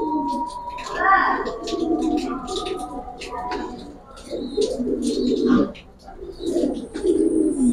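Pigeons coo repeatedly in a loft of Pankhi and Silver pigeons, their low throaty calls loud and close, with a few chirps and someone talking over them at times.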